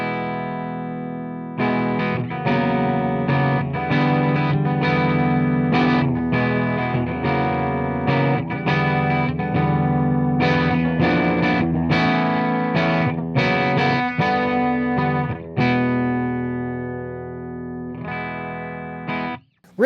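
Epiphone Firebird V electric guitar from 2021 played on its bridge pickup with a distorted tone, with loud strummed chords and picked phrases ringing steadily for most of the passage, then fading out near the end.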